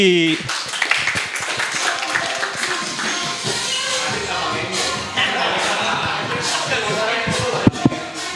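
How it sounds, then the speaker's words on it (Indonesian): A studio audience on a football talk show claps as a guest comes forward, with dense clapping under constant lively talk and chatter. "boleh tepuk tangan buat Eki."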